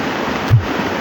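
A loud, unbroken roar of floodwater rushing down from Southville fills the air, with one brief low thump partway through.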